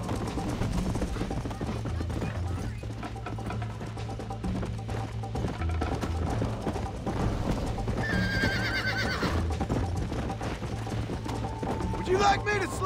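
Horses galloping and neighing in the Red Dead Redemption video game, steady rhythmic hoofbeats with several whinnies, under game music and voices talking.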